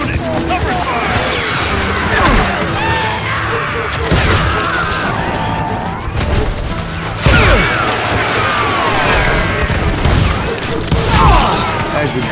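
Gunfire in the Call of Juarez Gunslinger western shooter, loud repeated shots and crashing impacts over a dense battle din, with shouting voices mixed in throughout.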